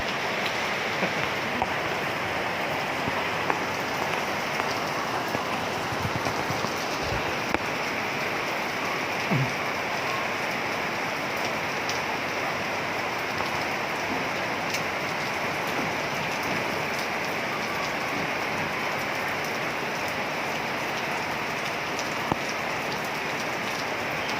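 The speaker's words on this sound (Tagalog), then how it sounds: "Sobrang lakas ng ulan, hindi na makikita ang ibang bahay." A constant downpour of heavy rain mixed with hail drums on surfaces in a thick, unbroken hiss, with faint scattered knocks and no voices.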